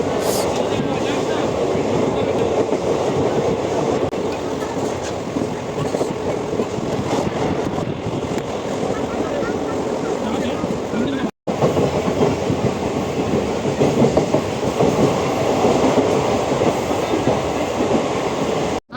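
A local passenger train near Guwahati, Assam, running on its rails, heard from inside as a loud, continuous rumble with rhythmic wheel clatter that holds steady throughout, with a short break partway.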